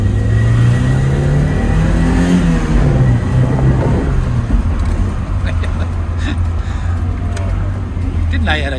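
Car engine revving during a drive in a car said to have an added turbo, a steady loud engine drone with rising and falling pitch as it accelerates, with people talking over it inside the car.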